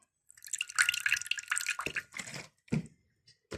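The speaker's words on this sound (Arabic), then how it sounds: "عندي هنا بقى صفار البيضة، هحط عليه نص معلقة خل" Half a spoon of vinegar is poured onto an egg yolk, making close, quiet wet dripping and splashing in short bursts over a few seconds, with small trailing drips at the end and no talk.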